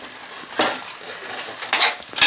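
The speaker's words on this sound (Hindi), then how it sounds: "अब हम इसे ज़ोर से चम्मच हिलाएंगे" A spoon stirs sooji halwa vigorously in a pan, making a brief, close run of rough scraping with a few louder bursts.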